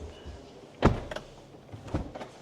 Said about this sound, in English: Nice door shut noise as well.